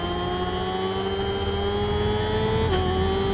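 A motorcycle engine holds a high, steady whine down a straight in a video game endurance race at Nürburgring GP, with a sustained droning tone that dips briefly near the end at a gear change, loud and constant.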